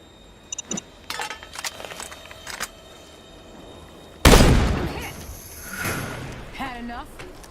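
A loud gunshot blast bursts out in the Western shooter game Desperados after a few light metallic clicks, followed by a decaying rumble and a rising whistle-like tone.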